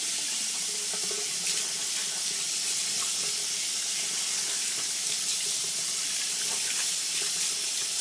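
Tap water runs steadily over a crab being rinsed clean for gumbo, a continuous close hiss and splash with no pauses and no voices.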